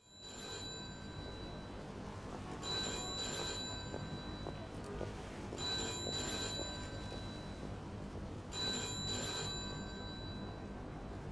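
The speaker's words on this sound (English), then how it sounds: "the phone is ringing" Telephone ringing in the Mafia 2 video game, three repeated bursts of bright bell-like ringing over a steady background hum, clear and prominent.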